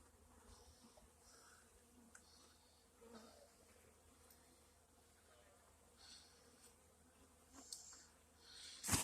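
Faint, continuous buzzing of many honeybees close by in a small hive, with occasional rustling and a brief louder noise at the very end.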